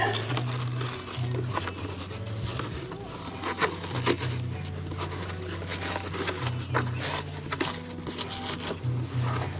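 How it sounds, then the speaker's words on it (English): Continuous crinkly tearing and rustling of old headliner fabric being peeled off the fiberglass roof of a 1995 Jeep Cherokee XJ, close up, with a low steady hum running underneath. "just peel off the headliner"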